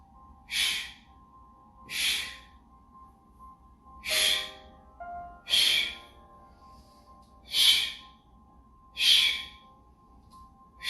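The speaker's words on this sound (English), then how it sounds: "Take a breath in, imprinting your spine. 2 sharp exhales out the mouth." Sharp breathy exhales out the mouth during a beginner Pilates exercise, six forceful puffs evenly spaced about every one and a half seconds, close and alone.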